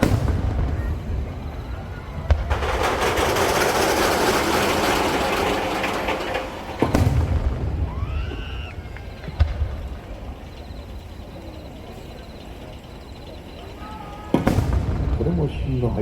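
Fireworks shells bursting at the Nagashima Onsen display in Japan: a long crackling, rumbling barrage gives way to scattered sharp booms and fizzing trails, with a crowd murmuring in the background.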